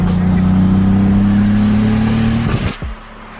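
A stock BMW M3 engine holds a loud, steady rev near 4,000 RPM with a rising drone, then drops off sharply, leaving a quieter idle at the end.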